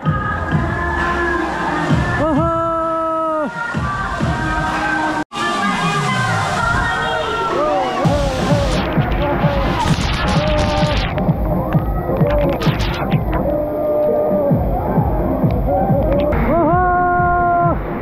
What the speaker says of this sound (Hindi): साठ फीट की हाइट से ये पानी गिर रहा है